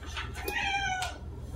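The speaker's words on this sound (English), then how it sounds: "I have a cat screaming at me underneath the table" A cat lets out a loud, drawn-out meow from under a table, rising and falling over about a second, with a short second cry at the end and no talk.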